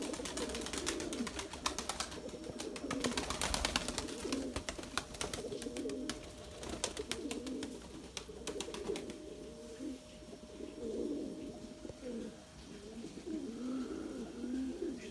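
Pigeons in a loft with breeding pairs coo in a steady, repeating chorus, the low throaty calls overlapping continuously and fairly close, with no talking.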